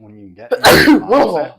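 A single forceful sneeze bursts out during a conversation, loud and close, preceded by a brief voiced buildup and followed by a shorter second burst, with speech around it.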